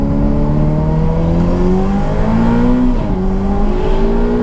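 Ferrari 488 Pista V8 with a new Inconel exhaust accelerating hard from inside the cabin, a loud rising engine note climbing through gears with a brief dip at a shift, then pulling again.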